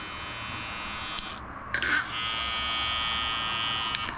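A Babyliss CoreFX hair trimmer runs with a steady high-pitched electric buzz. Two brief clicks or bumps break in near the start and one comes near the end, and the sound is close and moderately loud throughout.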